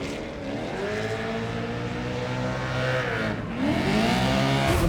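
A 1965 Ford Mustang AWD gymkhana car drifts nearby, its engine roaring steadily with continuous revving, rising toward the end, with tire noise mixed in and no talking.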